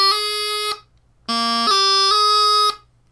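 Bagpipe chanter playing an A to high G doubling with a G grace note: a bright, reedy sustained note, a short pause, then a phrase of loud held notes stepping between pitches, played alone.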